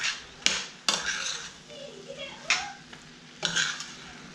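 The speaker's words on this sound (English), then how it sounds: "Now I'm just going to stir and make sure all the corned beef is coated with the onions." Corned beef and onions frying in a pan, stirred with a utensil that scrapes and knocks against the metal in a few distinct bursts over a low, steady sizzle.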